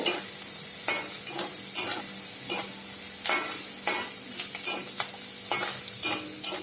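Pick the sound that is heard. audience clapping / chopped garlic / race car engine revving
chopped garlic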